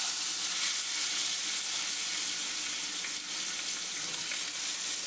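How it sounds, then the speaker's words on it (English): Pork loin searing in a hot pan, a steady, dense sizzle and crackle that runs continuously from start to finish, close and fairly loud with no voices. "And then you want to sear all sides."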